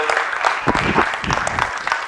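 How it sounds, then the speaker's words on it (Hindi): An audience claps to welcome a speaker onto the stage at an event, a short burst of loud, close applause. "जोरदार तालियों से स्वागत कीजिए"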